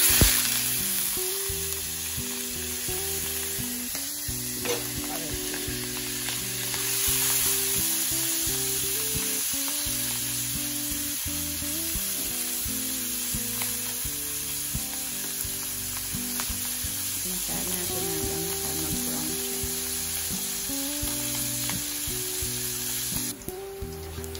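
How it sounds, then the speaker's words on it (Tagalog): Sliced meat browns in a hot pan, sizzling and crackling loudly and continuously up close, with occasional stirring scrapes and no talk. "Ilagay natin ang slice na karne. Tapos make it brown."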